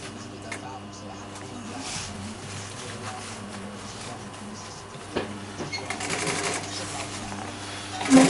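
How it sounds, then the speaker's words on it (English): A sewing machine stitches upholstery fabric around piping for a new sofa, running in a fast steady mechanical rattle at close range, with a person talking over parts of it. "I want it to sew nice and tight to the piping so we're not going to see any seams, stitching lines."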